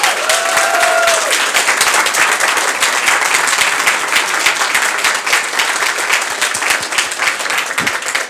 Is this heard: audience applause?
yes